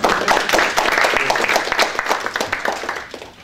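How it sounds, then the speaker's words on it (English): Applause from the audience at a start-up financing panel discussion, loud, close clapping at the outset that gradually thins and fades toward the end. "one round of applause"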